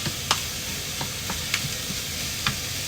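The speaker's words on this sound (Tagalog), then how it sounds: "habang tayo ay nagpiprito, hindi naman prito to, nagigisa ng sibuyas" Steady sizzling of onions sautéing in a pan, with occasional scraping clicks of a utensil stirring, close and continuous with no talking.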